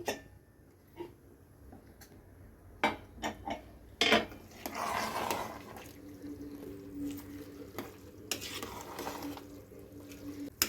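A pressure cooker holding bisi bele bath is opened after four whistles: sharp metallic clinks and lid clatter, then a short rushing, steamy burst and more clanking of pots close by, with no talking.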